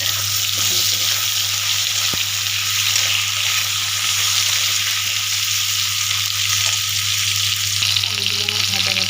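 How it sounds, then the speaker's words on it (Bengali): Potatoes fry in hot oil with a loud, steady, dense sizzle and a faint low hum beneath, continuous throughout. "দিয়ে আলুগুলোকে আমি ভেজে নেব।"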